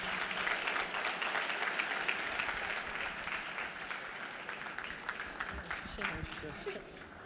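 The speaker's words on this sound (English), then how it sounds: "A round of applause for Dr. Yewande Oshodi." Audience applause after a speech at a teachers' education event, a dense, sustained wash of clapping with crowd murmur mixed in, steady and moderately loud for several seconds.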